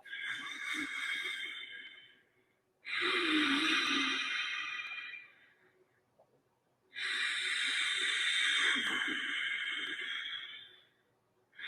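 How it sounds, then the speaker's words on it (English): Slow, deliberate breathing, drawing in through the nose and pushing out with the lips sealed, heard as three long airy hissing breaths several seconds each with pauses between, close and loud, no talk. "So breathing in through the nose and out, making the ha sound, but with the lips sealed."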